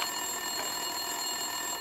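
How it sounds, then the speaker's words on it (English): An office telephone rings in the game Max Payne 2, a steady electronic ringing tone holding for a couple of seconds, clear and continuous with no talk. "Winterson's phone was ringing."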